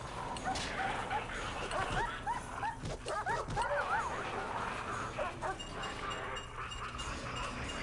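A dog in the prison-building video game Prison Architect barks, yips and whimpers in a string of short, high cries over a steady game soundscape, with no speech.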